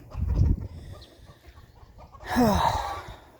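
A chicken in a garden lets out a short burst of clucking and squawks near the end, after a low rustle and a quiet stretch of outdoor background.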